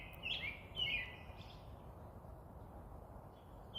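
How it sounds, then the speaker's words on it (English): Birds sing in the woods, a few faint high chirps early on over a low, steady outdoor rumble, distant and quiet. "Hear all the birds?"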